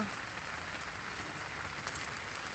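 Heavy rain falls outdoors at a home garden of colourful caladium plants, a soft, even hiss of drops on surfaces, fairly faint and continuous without voices.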